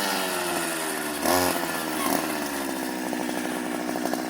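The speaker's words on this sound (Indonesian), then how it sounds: "Ini adalah mesin 2 tak ya." Two-stroke grass cutter engine running steadily and loudly up close in a field, a continuous buzzing drone with a brief surge in revs partway through.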